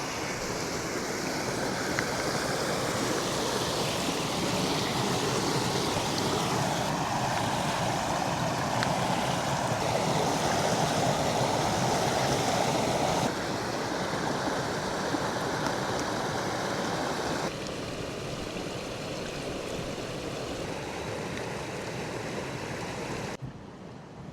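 A cold mountain stream fed by snow runoff rushes steadily and close for a long stretch, a continuous broadband wash of flowing water with slight shifts in tone and no talk.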